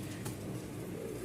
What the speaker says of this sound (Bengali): প্রতিটা কবুতর তার ডাক দিয়েই রাজশাহী গিরিবাজের পরিচয় দিচ্ছে